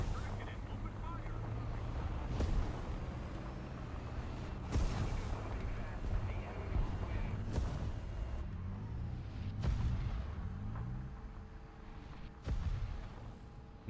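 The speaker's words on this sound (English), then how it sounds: "Artillery strike in this sector." Artillery strike in a tank video game: a series of heavy booming blasts, several sharp loud impacts spaced a second or two apart over windy rumbling background.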